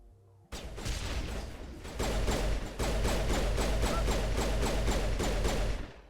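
Rapid, evenly spaced pistol shots in Mass Effect Legendary Edition, a steady run of close, sharp reports lasting several seconds after a sudden start, with no talking.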